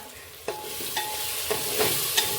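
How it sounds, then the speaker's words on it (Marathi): Ginger and garlic sautéed in a pan for a vegetable paneer pulao, a steady loud sizzle with a few light spatula scrapes, close up and without talk. "झालंय आपलं आलं लसूणही परतून"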